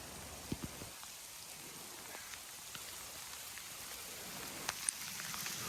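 Rain falling on a back yard with a patio drainage problem, a soft, even hiss of rainfall with a few scattered drops and taps close by.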